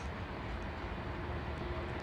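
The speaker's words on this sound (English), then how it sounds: "quite rare to see an Air Canada 777-200" An Air Canada Boeing 777-200 airliner at London Heathrow Airport produces a steady, broadband jet engine roar, loud and unbroken throughout.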